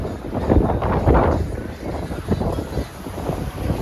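Strong wind buffets across the open pool deck of a cruise ship at sea during hurricane season, a loud, continuous roaring rush with rumbling gusts that swell and ease, with no clear speech over it.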